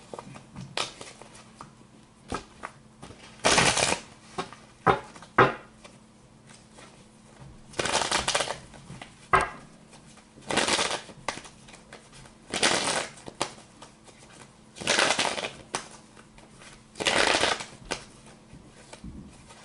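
Tarot cards are shuffled repeatedly, each riffle a quick papery burst, recurring every couple of seconds with soft handling noises between.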